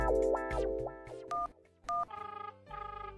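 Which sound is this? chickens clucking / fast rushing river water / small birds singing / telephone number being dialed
telephone number being dialed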